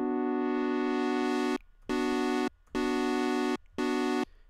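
Bright, buzzy Sylenth1 deep house synthesizer pad chord with pulse width modulation, held in four sustained bursts separated by brief gaps, loud and close with no voices.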